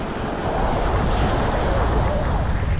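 Ocean surf washes steadily onto the beach at Manasota Key, a loud, continuous roar of breaking waves with gusty wind buffeting the microphone throughout.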